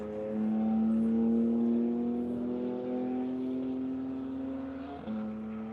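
A single car circles a race track during a club run session, its engine holding a steady, droning tone that rises slightly and then dips sharply as it shifts or passes, heard from a moderate distance.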